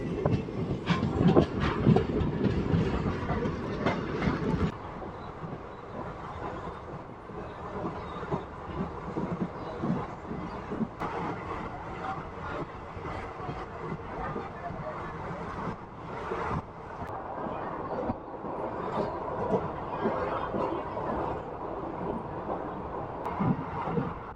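A passenger train on the Dharmavaram–Narasapur route rolls along the rails near Madanapalle Road station, its rumble and clatter loudest at first, then settling into a steady, quieter rhythmic running noise throughout.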